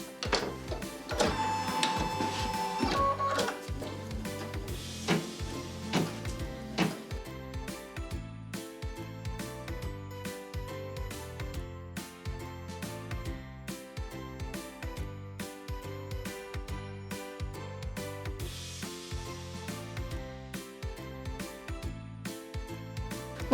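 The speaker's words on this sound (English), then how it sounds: "I'm going to lower the presser foot and then press start, and it's going to embroider the quilting design" An embroidery machine stitching a quilting design on pillow panels, a steady rapid mechanical chatter of needle strokes with rhythmic pulses and faint whirring, continuous and close throughout.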